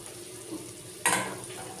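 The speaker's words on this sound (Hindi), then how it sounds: "प्याज को चला लेते हैं। ये देखिए प्याज अभी भूरा हो गया है" Onions frying and being stirred in a pan for a Champaran mutton handi, with a low steady sizzle and one sharp, louder scrape-and-hiss burst partway through as the pan is stirred.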